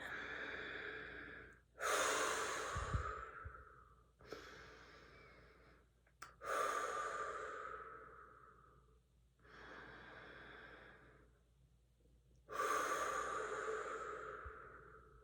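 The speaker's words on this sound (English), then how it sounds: "We're going to breathe it in." Slow deep breaths during a guided meditation session, several long inhales and exhales taken close and quiet, each swelling then fading, with near silence between them.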